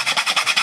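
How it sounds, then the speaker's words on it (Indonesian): Nutmeg rubbed against a grater while making Padang chicken satay, a quick series of about six rhythmic rasping strokes, close and clear with no talk. "Aku akan parut buah pala."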